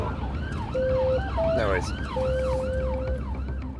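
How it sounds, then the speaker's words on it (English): An ambulance siren wails in a steady repeating rise-and-fall cycle, loud and close throughout, with a brief spoken word heard over it. "An ambulance has been dispatched to the address"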